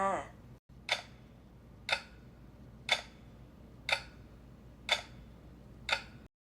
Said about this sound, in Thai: เสียงเดียวที่ได้ยินคือเสียงนาฬิกา